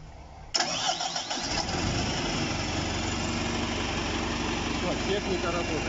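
The engine of a tracked ROYAL 149 concrete pump starts abruptly after a brief quiet moment, then settles into a steady, loud, rumbling idle that continues to the end.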